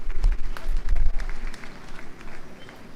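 Applause and cheering from an evening audience welcoming a communications official of the Pathe'O fashion house at its 50th anniversary celebration in Ouagadougou during FESPACO, loud at first with heavy low thumps, then thinning out.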